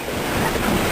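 Strong east trade wind buffets a sailboat at sea, a loud, continuous rush of wind and water noise with no pauses over a brief moment.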